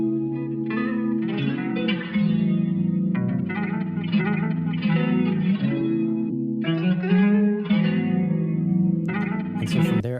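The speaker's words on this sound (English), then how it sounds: "I just take a guitar rig as well as just some stereo imaging and a reverb and just cut some mids and boosted some highs" A simple beat runs through a guitar rig with stereo imaging and reverb, mids cut and highs boosted, giving loud, wide, chorused and slightly distorted repeating tonal phrases with echoing tails, ending in a brighter burst.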